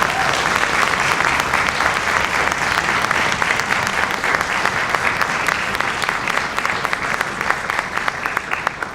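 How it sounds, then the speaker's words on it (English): Sustained, dense applause from a high school spring orchestra concert audience honoring graduating senior musicians, a continuous close wash of clapping hands lasting several seconds. "Give them a big round of applause."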